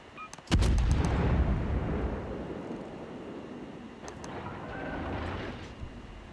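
Warship main guns firing in World of Warships: a loud booming salvo of several rapid blasts that rolls off into a long rumble, followed later by fainter distant thuds.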